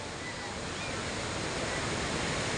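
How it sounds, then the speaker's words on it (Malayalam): Athirappilly waterfall pours in a steady, even hiss of broadband rushing water, seen from its main viewpoint, with no voices and no change in level. "നമ്മുടെ ആതിരപ്പള്ളി വെള്ളച്ചാട്ടത്തിൻ്റെ മെയിൻ വ്യൂ ആണ്"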